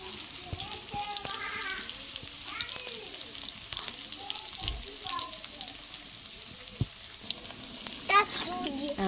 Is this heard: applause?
no